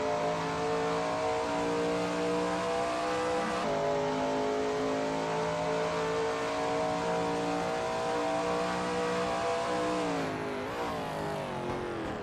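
A Shelby Mustang GT350R engine in a racing game at NJMP Lightning holds a loud, steady high-revving note with gear shifts, then drops in pitch as the car decelerates toward the end.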